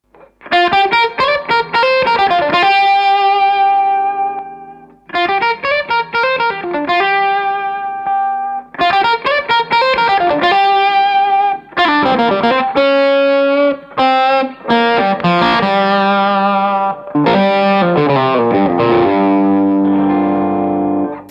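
Clean-ish electric guitar through a JAM Pedals Double Dreamer dual overdrive pedal set to low gain, strummed chords and picked notes with mild overdrive crunch, played in several phrases with short pauses between them.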